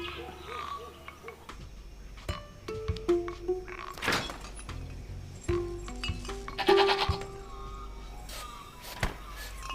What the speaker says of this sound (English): Get out of here, you stupid goat!